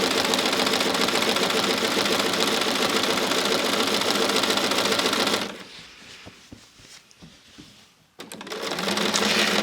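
A sewing machine fitted with a walking foot quilts through a basted quilt of white fabric, batting and backing with yellow thread, running in a rapid steady chatter for several seconds before stopping, followed by faint handling taps.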